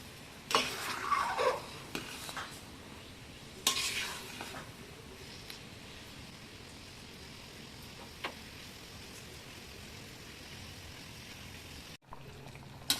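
Alphonso mango pieces cook in a pan for a sweet murabba, a soft low simmering hiss with a few spoon scrapes and clatters early on, then a quiet steady bubbling.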